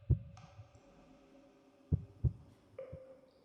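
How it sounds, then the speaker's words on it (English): A heartbeat in Minecraft thumps softly and intermittently amid quiet in-game tones and a faint hum, with irregular gaps between the beats. "I should still be able to hear the heartbeat right here."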